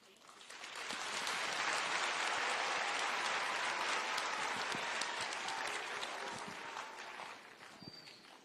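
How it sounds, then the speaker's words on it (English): A crowd at a Kenya Girl Guides patron installation ceremony claps steadily, swelling quickly and holding for several seconds before tapering off, dense and close. "Let us give another round of applause to the Patron, Her Excellency."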